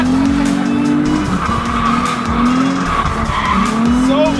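A car drifts at an outdoor car meet, its tires squealing loudly and continuously over a roaring engine that rises and falls throughout.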